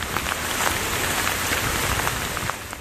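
Heavy monsoon rain pours down in a dense, steady hiss with scattered drops spattering close by, and no voices.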